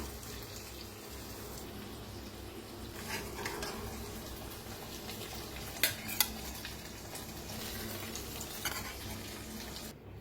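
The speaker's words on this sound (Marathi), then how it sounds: "मिक्स करूया एकदा" Stuffed ridge gourd cooked soft in oil is stirred in a pan, a low continuous sizzle with soft scraping and a couple of sharp utensil clinks near the middle, no talk.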